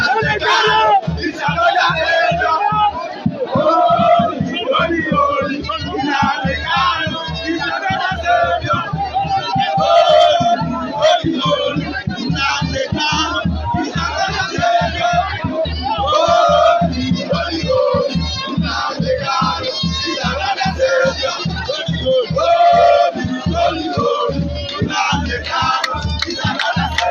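A large crowd of Nnamdi Kanu supporters outside a court shouts and chants in loud, rhythmic bursts, the collective yelling continuing without pause across the whole stretch.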